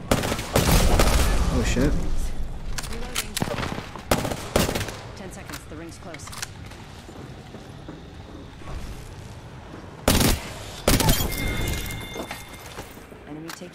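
Gunfire in the video game Apex Legends: bursts of rapid shots and heavy impacts that come and go over several seconds, with a player talking over parts of the action.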